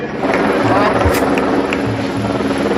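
A helicopter flies over an official event in Baramulla, Kashmir, where it is to shower flowers on the crowd; its loud, steady rotor and engine drone fills the whole stretch without a break.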